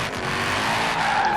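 A McLaren Senna's tires squeal and skid loudly in Forza Horizon 4, a sustained screech over the engine that holds steady for the whole moment.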